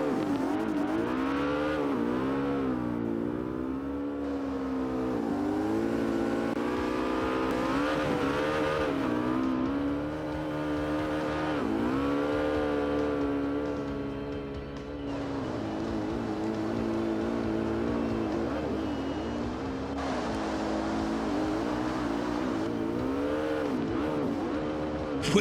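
Race cars running on the big track at Irwindale, a continuous loud engine drone with rising and falling pitch as the cars accelerate and pass, steady throughout with no break.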